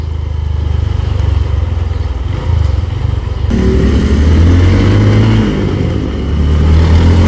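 A 2013 Honda Verza air-cooled motorcycle being ridden, its single engine droning loudly and close with a steady low thrum that rises in revs partway through, no talk over it.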